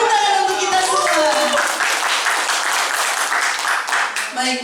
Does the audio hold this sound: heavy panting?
no